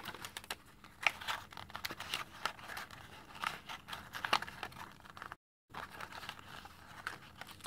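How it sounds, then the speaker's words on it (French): Paper is folded by hand to make a Simpsons figurine, with soft, continuous crinkling, light creasing taps and rustling close to the mic and no talking. "Je vais plier un petit peu."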